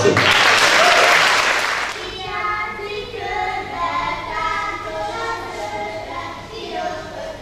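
At an art school's end-of-year gala, an audience bursts into loud applause that fades after about two seconds, and then a voice carries on alone.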